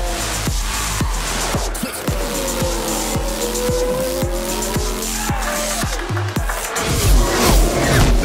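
Formula 1 race cars at Silverstone in the video game F1 Manager 2022 roar past in a continuous high-pitched engine whine with rapid gear-shift pulses, loud and close throughout with no talk.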